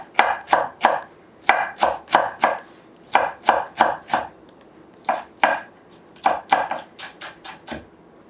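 Rapid knife chopping of garlic on a cutting board for Korean beef radish soup, bursts of quick, crisp taps in uneven clusters, close and clear, with no talking.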